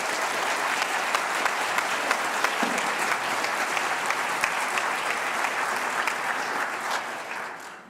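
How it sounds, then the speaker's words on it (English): A church congregation applauds with dense, even clapping that holds steady for about seven seconds and then fades out, with no talking. "If you would rise and let us applaud you for your work."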